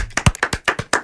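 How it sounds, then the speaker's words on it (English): Light golf clap from a few hands: about eight soft, evenly spaced claps in roughly a second, close and fairly quiet, with no talk over it. "Nice little golf clap."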